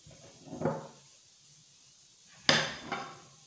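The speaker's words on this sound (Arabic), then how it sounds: "غادي ندير كفته غادي نزيد عليها هاد البصله" Onion being added to minced meat kefta for a Filali madfouna, with two distinct bursts of bowl and utensil clatter, a softer knock then a sharper clack a couple of seconds later, near and otherwise quiet.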